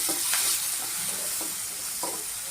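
Cut tomato is stirred in a hot pan for egg uggani, giving a steady, close sizzle throughout. A spatula scrapes in repeated soft strokes, roughly every half second.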